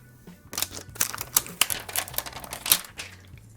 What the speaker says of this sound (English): Oh, looks like I forgot to take off the plastic.